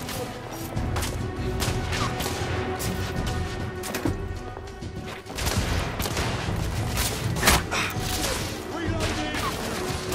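Heavy gunfire fills a battle in The Order: 1886 on PS4, with dense overlapping shots and crashes running throughout and voices shouting over the din.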